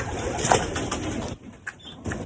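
Pigeons in a loft at feeding time coo and stir close by, with soft wing flaps and light rustling, a few sharper bird calls breaking through near the end.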